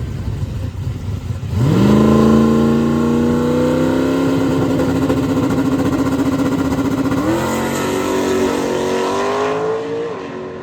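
A drag race car making an A to B pass: a loud engine roars up, holds a high steady tone, shifts once with a brief dip, then pulls on before fading, with no talk.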